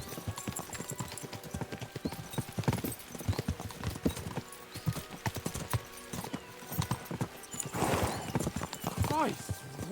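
Video game horses from Kingdom Come: Deliverance 2 gallop, hooves clattering in a rapid rhythm, with a horse whinnying near the end and voices talking over the pounding hoofbeats.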